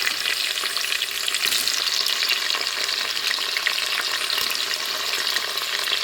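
Chopped tomatoes hit browned onions in a hot pan, producing a continuous, even, close-up sizzle of frying with light stirring throughout and no talking.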